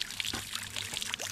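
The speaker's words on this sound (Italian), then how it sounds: "qui c'è una fonte. Dopo aver preso un po' d'acqua fresca" Fresh water from a mountain spring pours and splashes continuously near the microphone, a bright steady flow with small gurgles and no talking.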